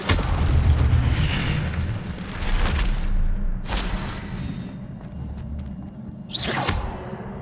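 Incendio fire spell cast in Hogwarts Legacy, loud booming bursts of flame with whooshing swells, several blasts rolling over a continuous rumbling game background.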